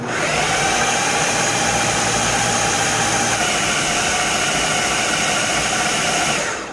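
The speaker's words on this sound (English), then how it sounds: "I pureed this thing for 1 minute in this Ninja food processor" A Ninja food processor running on high purees gyro meat with spices and salt, a loud, continuous close-up motor roar with a dense churning hiss that holds steady for the whole stretch.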